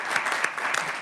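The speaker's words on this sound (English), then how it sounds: "Let's just give them an applause for." An audience at an education committee meeting claps in a brief burst of dense, even applause, fairly close and steady throughout.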